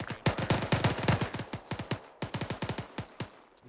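Military video game gunfire sounds as bursts of rapid, sharp automatic shots, firing in quick clusters with brief pauses, fairly close and dominant with no talk.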